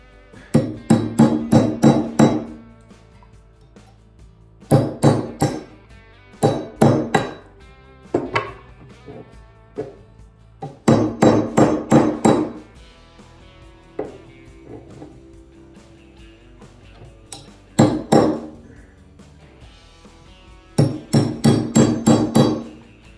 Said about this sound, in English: I will get like an extender from a socket, slowly tap it around the ring.